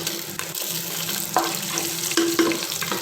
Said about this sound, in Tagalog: nilagay na natin yung ating bawang